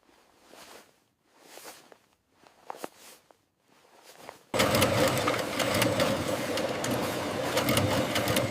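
Industrial sewing machine stitching sports jerseys in a factory: short bursts of stitching separated by pauses, then a loud continuous mechanical run for the second half.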